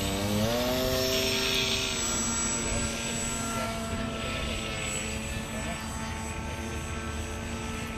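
A model helicopter at a flying meet holds a steady, loud whining rotor and engine drone, with tones shifting slightly as it flies near, alone with no talk.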